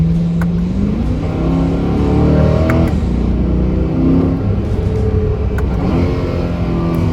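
A Corvette C8 3LT's engine hums from inside the cabin while driving, a loud steady drone whose pitch rises and falls with the revs, mixed with road noise and a few light clicks.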